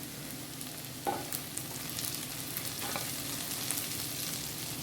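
Shallots and green chillies sautéing in coconut oil give a soft, continuous sizzle with a few light stirring knocks, fairly quiet and without talk.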